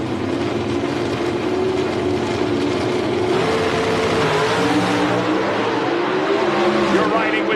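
Onboard a Mopar drag racing car, the engine roars loud and close from start to finish, its pitch climbing steadily through the gears, with talking beneath it.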